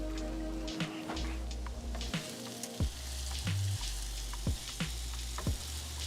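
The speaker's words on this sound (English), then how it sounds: "you can hear the sizzle. It already tells you it's a fajita." Steak and vegetables for fajitas sizzling in a hot pan, a soft continuous crackle and hiss with scattered pops and a few scraping utensil knocks, fairly quiet, no talking.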